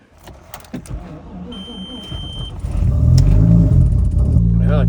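An Audi RS4 is cold-started at minus 30 Celsius: clicks and a whirring crank give way to a loud, close engine catch and a rising, rumbling idle, with someone talking over it.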